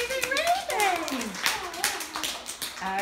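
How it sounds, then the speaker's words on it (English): Children clap together at school after a phonics reading exercise, a brief burst of quick, uneven hand claps mixed with high, excited children's voices. "Give yourselves a clap for amazing reading."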